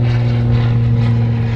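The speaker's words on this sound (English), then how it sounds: "Those planes never listen." A propeller airplane drones steadily overhead, a loud continuous engine hum with strong low tones that holds evenly throughout, near a fishing tackle setup outdoors.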